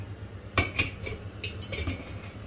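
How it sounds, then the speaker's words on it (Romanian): A metal lid is placed on a pot of vegetable soup in a home kitchen, producing a sharp clank followed by several lighter clinks and rattles as it settles. "Trebuie să pun un capac."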